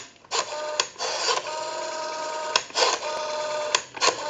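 Western Electric 500 rotary telephone dial, sluggish and in need of cleaning and oiling, turning in several short whirring runs with small clicks between them, close and clear with no talk.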